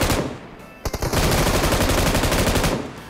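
Rapid automatic gunfire in a military-base battle royale shooter game, loud and close, with a short burst of separate shots followed by a sustained, rattling stream of fire lasting about two seconds.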